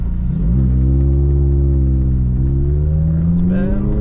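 An 800-horsepower McLaren engine holds a loud, steady rev, its pitch climbing slowly after a paddle downshift before a brief bark near the end, heard close and continuous from inside the car.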